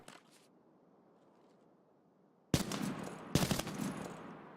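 Bipod-mounted machine gun firing in Escape from Tarkov: after a quiet stretch, two loud sustained automatic bursts tear through, close and harsh, with no talking.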